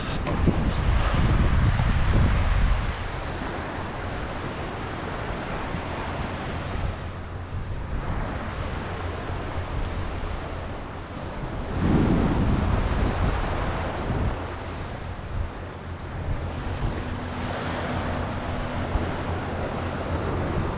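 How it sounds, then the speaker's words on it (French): Surf rolling onto a beach at La Ménounière on Île d'Oléron, a steady wash of waves heard outdoors with heavy wind buffeting the microphone and no talking. "On est sur les plages de la Passelle à la Menounière."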